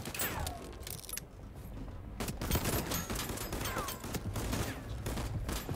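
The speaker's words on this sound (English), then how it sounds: "Oh, Bane shrapnel gun." A shrapnel shotgun firing in the video game Voidtrain, sharp blasts in quick bursts with metallic clatter between them, moderately loud against game ambience.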